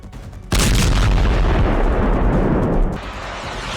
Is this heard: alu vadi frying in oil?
no